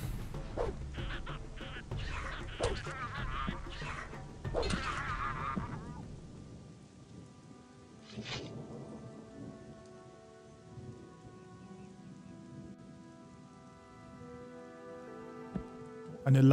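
A rainstorm with thunder in the Gothic II mod Archolos: a voice talks over the rain at first, then a sharp thunderclap breaks through the steady shower while faint tonal music drifts underneath.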